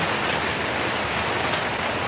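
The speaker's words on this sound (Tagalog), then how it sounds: "Grabe ang ulan kusog kaayo oh." Heavy rain pours down steadily, a dense, even hiss of water falling hard on surfaces all around, loud and unbroken with no voices.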